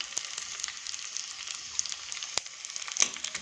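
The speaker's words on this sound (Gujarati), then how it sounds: "ગુંદર પ્રોપર તળાય એટલે આપણે એને બહાર લઈ લઈશું" Gum arabic (gundar) fries in hot oil in a pan, giving a faint, steady high sizzle with scattered tiny pops and crackles throughout.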